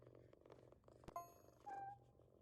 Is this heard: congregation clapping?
no